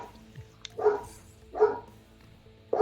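Dogs bark in a home during a livestream of the fighting game KOF XV, three loud single barks spaced about a second apart, close by, with faint background noise between them.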